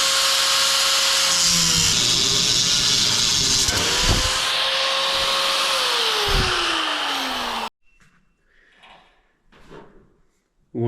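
A power tool cuts through an upper support during removal of a 1951–1954 Packard straight-eight engine, a loud, steady whine shifting in pitch for several seconds with a couple of sharp knocks, then stopping before faint rustling.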